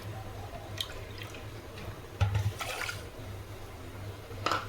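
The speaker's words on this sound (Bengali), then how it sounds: "এই বাটি মেপেই কিন্তু আমি জল দিয়ে দেব 1 বাটি আর একটুখানি।" Water poured from a bowl onto sugar to make syrup in a home kitchen, heard as a soft trickling splash with a few brief drips against a quiet low hum and no talking.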